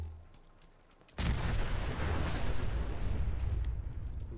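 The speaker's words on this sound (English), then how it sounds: "We gotta love random explosions." A sudden explosion in the Fallout 4 video game bursts in after a second of quiet, then a loud, dense roar of blast and rumbling debris rolls on for several seconds, slowly tapering.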